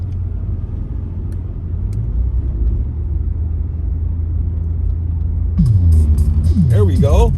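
A car engine drones steadily while driving, a loud low rumble throughout, and near the end a voice speaks over it.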